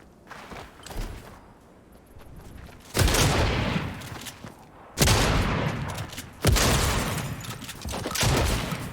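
Gunfire in Fortnite: several loud bursts of shots, each a sharp attack trailing into a rolling decay, arriving in separate bursts with quieter gaps between, no voices.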